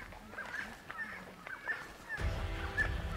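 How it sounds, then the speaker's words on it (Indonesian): A friarbird (Philemon) calls at Loh Liang in Komodo National Park, giving a series of harsh, honking notes at moderate distance amid faint outdoor ambience, with a louder burst of noise near the end. "Kalau yang itu burung kakwak namanya"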